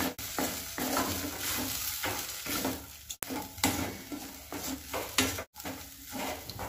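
Broken papad pieces are tossed with spices in a bowl: close, rhythmic rustling and crunching scrapes with occasional clinks against the dish, and no voices.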